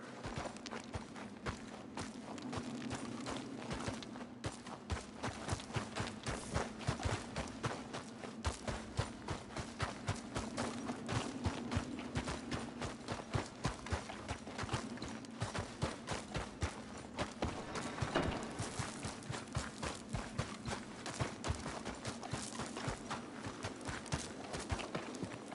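A horse's hooves clip-clop steadily in Red Dead Redemption 2, a dense, continuous run of hoofbeats at close range that carries on throughout with no talk over it.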